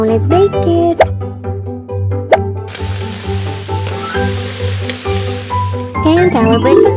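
Toy bacon cooking in a pretend kitchen gives off a sizzling, hissing spray among plastic clicks and taps, with a voice talking throughout.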